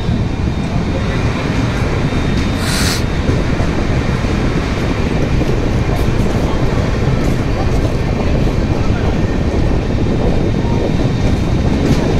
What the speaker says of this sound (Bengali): আমাদের ট্রেন এখন কুলটি ছেড়ে বরাকরের উদ্দেশ্যে যাত্রা শুরু করলো।